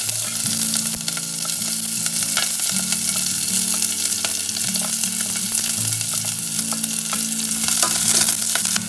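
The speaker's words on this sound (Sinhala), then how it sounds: "ලූණු ටික පොඩ්ඩක් මැල වෙනකම් 3/5 ටික බැද ගන්න." Onions, chilies and curry leaves fry in hot oil for a green apple curry, a loud continuous close sizzle with constant stirring and scraping throughout, no voices.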